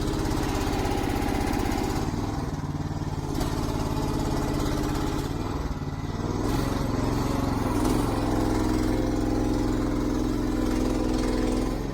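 A Mygale 600 mini excavator engine runs at half revs, a steady, close, loud diesel drone with a constant rhythmic chug that holds for the full stretch, with no talk over it.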